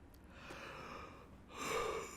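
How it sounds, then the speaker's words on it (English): A person yawning, a soft breathy intake that swells into a short voiced exhale near the end, close and fairly quiet. "That's yawn."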